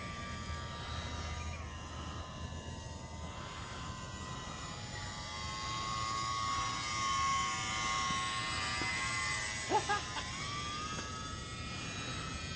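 A UMX Mini Timber RC park flyer plane flies overhead, its small electric motor giving a steady whine that rises and falls slightly as it passes, with a brief sharp knock near the end.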